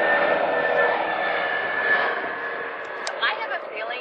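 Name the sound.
airplane flying overhead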